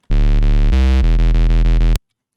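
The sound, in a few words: distorted synth tone with drive turned all the way up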